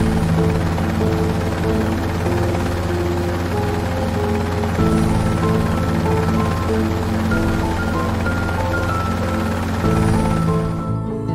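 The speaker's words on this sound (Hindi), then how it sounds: "बाबा जॉम्बी को रस्सी से बांधकर हेलीकॉप्टर में बिठा देते हैं।" A cartoon helicopter flies in an animated horror-comedy, giving a loud, steady rotor drone that runs unbroken through the whole stretch with tonal layers on top.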